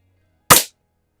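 A single sharp shot from a vintage El Gamo model 68 .22 caliber break-barrel air rifle fired inside a garage, one loud close crack with a brief decay, set against near silence.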